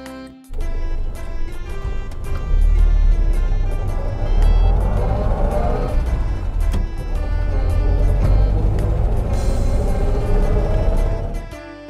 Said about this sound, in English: Golf cart.